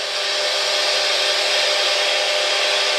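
A ghost-hunting spirit box sweeps through radio static, producing a continuous hiss of white noise. It is loud and close and stays unbroken for a few seconds.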